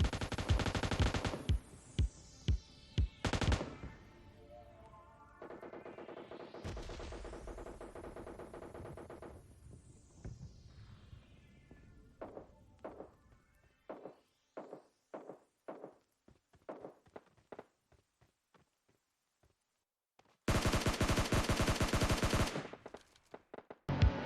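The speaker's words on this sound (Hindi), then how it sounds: "अब यहाँ पे मेरे सामने वाले घर में ही फायरिंग होती है और मेरे को पता भी नहीं।" Gunfire in the mobile video game PUBG Mobile Lite, with loud bursts of automatic fire and single shots repeating in rapid clusters. Swooping, sweeping electronic tones run between the volleys, and a final dense barrage follows a short lull.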